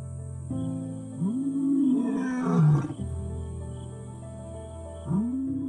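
A male lion roars in the wild, with deep rising moans that swell into a loud roar and then fall away, repeated after a pause and heard alone at moderate distance.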